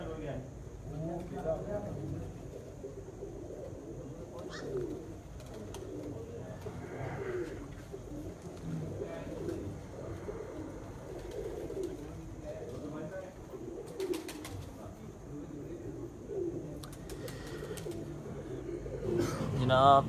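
Pigeons coo softly in low, repeated murmurs after landing at a Punjab pigeon-flying contest, with occasional faint chirps and someone talking over them throughout.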